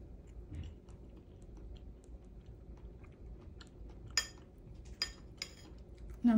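Close, quiet chewing of sweet, freshly cut papaya, soft crunches with a few sharp clicks of cutlery against a plate, alone without speech.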